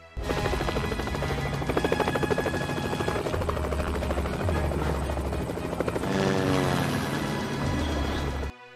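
A police helicopter flies over a swamp, its loud rotor chop and whining engine continuous and close for the whole stretch, swelling slightly toward the end.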